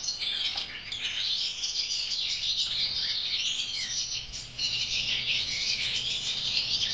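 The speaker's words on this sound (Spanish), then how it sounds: "Fijaros. Estos pájaros. Están preciosos." Many birds chirp and tweet continuously in a busy aviary, a dense steady chorus of bright calls with occasional squawks and no talk.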